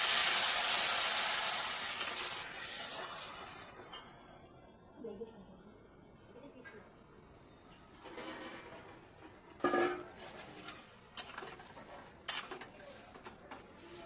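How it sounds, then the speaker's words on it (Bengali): Water is poured into a hot pan of chickpea greens seasoned with turmeric, giving a strong hissing rush that fades over a few seconds. Scattered clinks and light pan knocks follow, with faint voice sounds in places. "এবার জলটা দিয়ে দেবো অল্প করে।"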